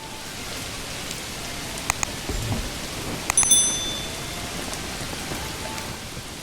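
Steady rain falling in the medieval city-building game Manor Lords, a continuous hiss of close rainfall with a few sharper drips and taps over it.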